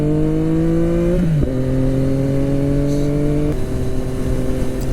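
A 2016 Yamaha FZ-09 motorcycle's engine revs hard, the note dropping briefly at a gear change before climbing steadily again, loud and close with no talk.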